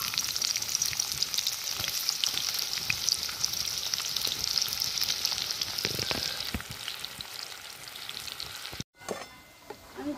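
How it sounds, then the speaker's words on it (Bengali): Sliced onions frying in hot oil in a pan until crispy, a steady close sizzle and crackle with occasional stirring scrapes, no talking. "এই তেলের মধ্যেই আমি পেঁয়াজগুলো বেরেস্তা তৈরি করে নেব।"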